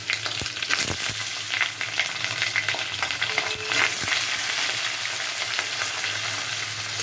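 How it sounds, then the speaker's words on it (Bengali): Cut potatoes fry in hot oil with cardamom in a pan, a steady, close sizzle with occasional scraping and stirring clatters, no voices. "আলুগুলোকে একটু ভেজে নেব"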